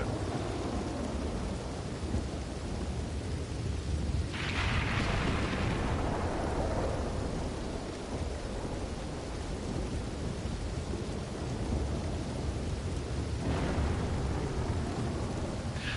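Red Dead Online thunderstorm: steady rain hiss throughout, with rumbling thunder building around the middle and another roll near the end, no voices.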